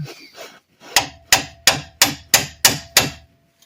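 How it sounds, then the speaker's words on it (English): Sharp metallic hammer taps on a 1998 Ram 1500 axle gear set, seven evenly spaced strikes after a couple of softer scrapes, close and loud with a faint ringing tone. "and then I use my hammer"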